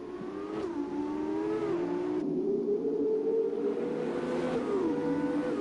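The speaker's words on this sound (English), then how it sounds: "Engines do sound quite different going through that tunnel section." Formula 2 race car engines in a Monaco racing video game, heard through the tunnel section: a loud, continuous high droning whine whose pitch rises and dips as gears shift, with no talking.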